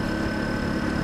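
A 150cc scooter engine idles with a steady, close, continuous mechanical hum and rumble, with no pauses or changes throughout.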